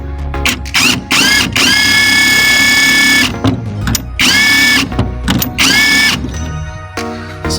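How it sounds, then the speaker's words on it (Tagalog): Impact wrench driving a 17 mm nut on the rear shock of a Mitsubishi Mirage G4, loud close bursts of rattling hammering whine, several short runs followed by longer sustained ones with brief pauses between. "ayan size 17 okay tapos i-impact natin okay so impact natin para"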